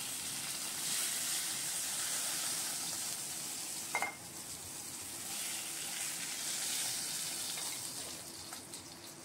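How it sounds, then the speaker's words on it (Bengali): Two large pieces of katla fish, about 300 grams together, fry in hot oil with a steady, even sizzle and hiss. A single brief clink sounds near the middle, and no one speaks. "এবার আমি মাছটা ভেজে নিলাম।"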